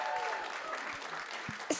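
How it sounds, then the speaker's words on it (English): An audience at a welcome event at Sundance breaks into applause, a dense wash of clapping heard close and steady through the brief moment. "Give him a round of applause,"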